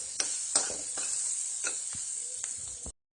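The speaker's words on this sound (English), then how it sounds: "start cooking the sauce that I had blended" A blended sauce sizzles in a hot pan during pasta making, with a steady hiss broken by several sharp clinks and scrapes from stirring, close and clear, before cutting off abruptly.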